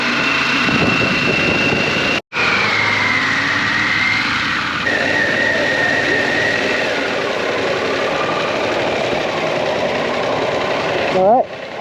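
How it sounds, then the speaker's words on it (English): A ferry's engine idles as a steady mechanical drone under onboard voices and ambient noise, with a brief dropout near the start and a rise in level at the end. "Another ferry."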